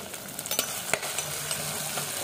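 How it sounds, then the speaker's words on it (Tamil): Onion, green chili and curry leaves sauté in oil in a seasoned clay pot, a close sizzle broken by the scrape and clatter of stirring, with no voices. "வடவம் போட்ட மண் சட்டியில் வெங்காயம் பச்சை மிளகாய் கருவேப்பிலை போட்டு நல்லா வதக்குவோம்"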